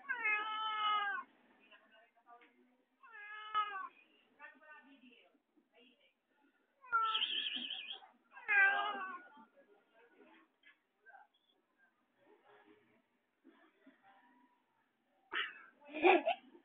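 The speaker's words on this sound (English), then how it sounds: "Meow, kitty, kitty, kitty." A cat meows several times, loud and close, with quiet pauses between the drawn-out cries.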